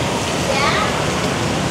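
Steady heavy rain pours in Saigon as a continuous broadband wash, close and unbroken through the whole moment, with no distinct voices above it.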